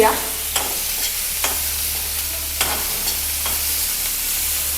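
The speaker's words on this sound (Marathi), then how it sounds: "पहिल्यांदा कांदा घालूया लसूण जळेल ना" Chopped onion sautés in hot oil in a pan, a steady close sizzle with a few distinct scraping stirs of the spoon, no talk.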